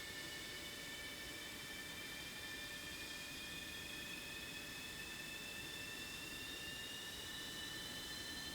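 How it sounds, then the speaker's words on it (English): Jet engines of an F-16 spooling up in a flight simulator game, a steady broadband roar with rising high whine tones that climb slowly throughout, continuous and fairly faint, no talking. "The sound of jet engines spooling up is just so good."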